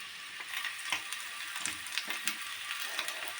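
Potatoes frying in a pan for a Bengali green potato recipe, a steady close sizzle with soft stirring scrapes and small crackling pops throughout, no talking.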